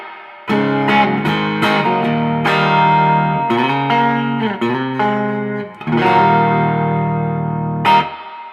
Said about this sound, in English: It's just on the edge of breakup, which is how I like to set it up